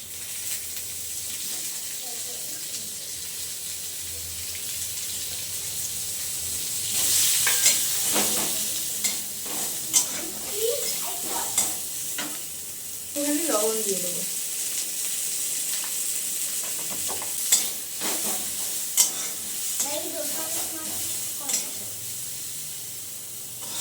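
Dried onion fries in hot oil in a pan with a continuous hissing sizzle, and a spoon scrapes and clinks against the pan at irregular intervals as it is stirred.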